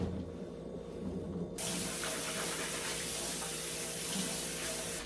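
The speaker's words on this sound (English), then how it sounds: "I am just going to now rinse my potatoes one more time." Potatoes rinsed under a running kitchen tap, a steady loud rush of water starting suddenly after a quiet moment and continuing without a break, close by.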